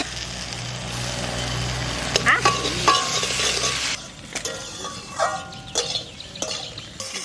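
Cumin seeds dropped into a hot pan of oil, giving a steady close sizzle for several seconds, followed by scattered metallic clinks and scraping from the pan.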